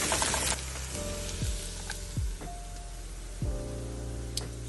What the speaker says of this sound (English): So friends, okra got fried.